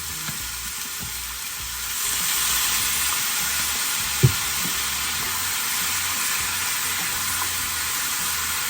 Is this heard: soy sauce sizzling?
yes